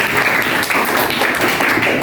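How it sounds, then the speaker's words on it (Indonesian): Classroom audience applauding after a mathematics teaching performance, a continuous dense patter of hand claps, fairly loud and steady for the whole stretch. "kita berikan tepuk tangan"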